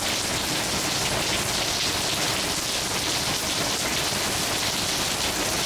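Heavy rain during stormy weather, a steady, dense hiss of falling water and drops hitting surfaces, loud and constant with no voices.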